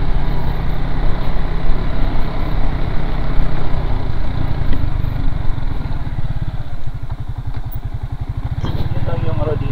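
A motorcycle engine runs with a continuous, loud, rough rumble on a dusty rural road in Sitio Bulod, Comaguingking, while people talk over it.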